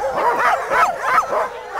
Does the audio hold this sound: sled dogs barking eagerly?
yes